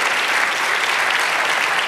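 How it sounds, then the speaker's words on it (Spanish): A church congregation applauds, a dense, loud wash of many hands clapping together that holds steady for the whole moment. "Dale un aplauso al Señor"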